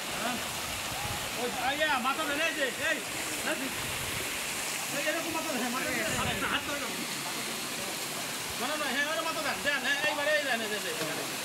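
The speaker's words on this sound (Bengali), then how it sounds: "পানির কলকলনিতে" Rushing, gurgling water from the Khiyasora waterfall, set high above flat land, a steady broadband wash running throughout with a person talking intermittently over it.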